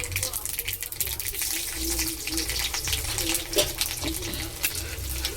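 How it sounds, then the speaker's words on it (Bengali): Chopped garlic tipped into hot oil with mustard seeds gives a continuous, dense sizzle with crackling spits throughout, close and fairly loud, with a faint voice underneath. "রসুনটা তেলের উপরে তুলে দেবো।"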